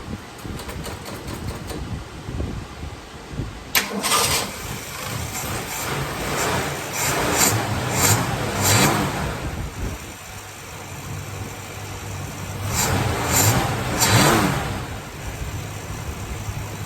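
A Ford Fairlane engine cranks and catches around four seconds in, then idles with a steady mechanical hum and a few blips of revving that swell and fade, heard alone with no talking.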